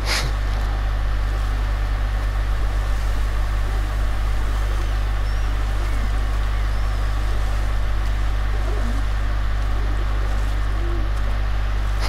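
A steady low engine drone with constant water rush, a boat cruising in the video game God of War (2018), continuous and even throughout with no voices.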